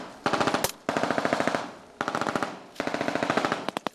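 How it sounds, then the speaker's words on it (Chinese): Simulated automatic gunfire during a military anti-landing exercise: rapid, loud bursts of rattling shots in four long strings separated by short pauses, ending in a few isolated pops. "现场的枪声是音效"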